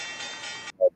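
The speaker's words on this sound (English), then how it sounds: "We had the session bell ringing." An electronic trading session bell rings to mark the London market open, a bright sustained tone lasting under a second and then cut off, followed by one short, louder chime.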